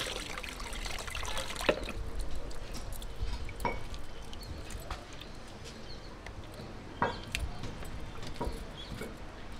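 Water trickles and splashes steadily over boti kitchen cutting blades, with a few sharp clicks and knocks breaking through the running flow.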